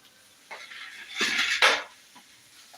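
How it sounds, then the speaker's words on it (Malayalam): Chapati dough being rolled flat on a board, with a soft scraping, rubbing roll and light clinks of the rolling pin, close and moderately loud with no talking. "നമുക്കിത് ചപ്പാത്തി പരത്തി കൊടുക്കാം"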